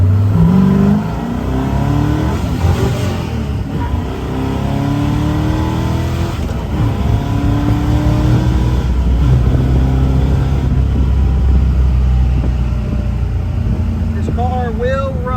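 A 1969 Chevrolet Camaro convertible Indy 500 pace car with a 396 V8 revs and pulls through its gears, a steady loud engine drone with rising pitch sweeps, heard from close by with voices talking over it.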